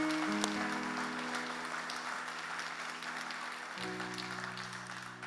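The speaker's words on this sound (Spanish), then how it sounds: "Den un aplauso al Rey de Gloria" A church congregation claps together in applause for the King of Glory, a soft, continuous patter of many hands heard at a distance under sustained organ-like keyboard tones.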